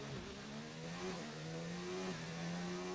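Racing car engine in a video game, heard through the Monaco tunnel and under heavy braking toward the Nouvelle chicane at night. It revs loud and continuous, its pitch rising and falling with gear changes, with no talk.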